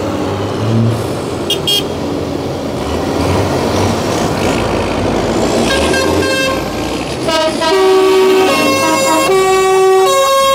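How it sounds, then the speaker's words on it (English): Short, high tractor horn toots, small-sounding for a big tractor, sound over a steady rumble of engines and traffic, with a few brief tonal blasts near the end. "That's a tiny horn for a big tractor."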